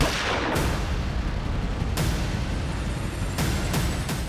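A gunshot rings out in a TV crime drama: a loud, dense blast with sharp bursts near the start and again later in the clip, no speech over it.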